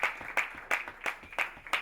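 Short burst of audience applause at a Berklee City Music summer scholarship meeting, with about six sharp, rhythmic clap bursts in under two seconds, fairly close and moderately loud, with no voices.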